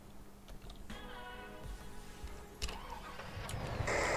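Audi car engine starting in Farming Simulator 19, a cranking whine rising into a running idle, with keyboard clicks close by.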